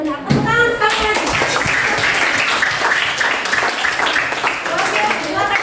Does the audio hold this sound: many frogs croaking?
no